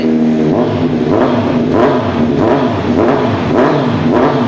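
2018 Kawasaki Z900SE motorcycle with a Daivo carbon slip-on exhaust revs repeatedly, several sharp close throttle blips rising and falling over a steady idle.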